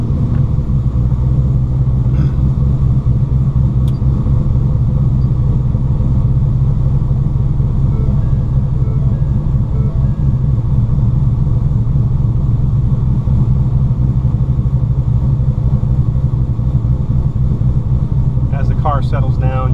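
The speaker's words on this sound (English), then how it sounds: "I'll go ahead and start the car up real quick and let you see the RPM come online." A Ford car engine rumbles steadily at idle from start to finish, a dense low drone that holds even throughout.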